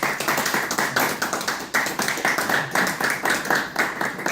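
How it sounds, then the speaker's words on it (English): Audience at a press conference applauds emergency workers and first responders after a flood, a steady rhythmic round of clapping from a modest group, close and even. "let's just give them all a round of applause"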